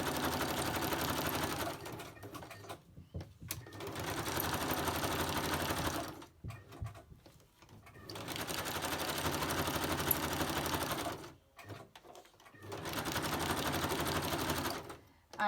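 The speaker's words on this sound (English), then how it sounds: "I'd like to stitch around that just a sec." A sewing machine stitches around an appliqué in long, steady, close bursts of rapid whirring, broken by short pauses.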